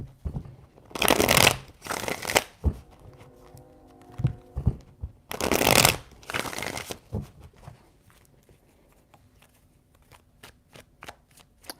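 Tarot cards riffled and shuffled by hand at close range: two bursts of crisp, rapid flutter, a pause with light tapping, then two more riffles, followed by soft handling sounds and settling taps.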